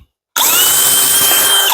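A DeWalt 20V XR cordless hammer drill starts abruptly and runs at high speed in third gear, producing a loud, steady, close whine that continues to the end.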